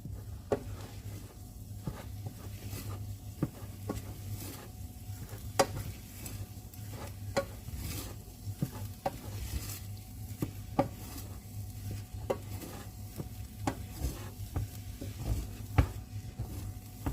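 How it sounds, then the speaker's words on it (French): Choux pastry dough being stirred in a saucepan over heat to dry it out: repeated scraping and knocks of the spoon against the pan over a low steady hum, with faint sizzling throughout. "Et maintenant on va dessécher la pâte en faisant comme ça, en tournant."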